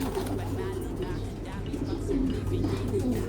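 Pigeons coo low and throaty near a steady background hum while fighting with one another, and a voice speaks faintly under the cooing.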